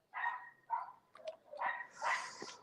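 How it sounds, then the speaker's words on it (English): Several dogs bark in short repeated bursts with yips mixed in, fairly close and lively, no talk over them. "There's going? dogs barking everywhere."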